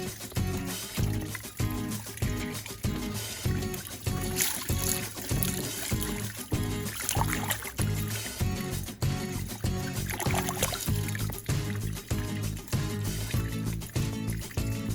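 Water trickling and splashing as muddy toy cars and Disney car convoys are cleaned in a garden, steady rhythmic sloshing throughout, close and moderately loud.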